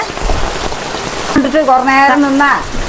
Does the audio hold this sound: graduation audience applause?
no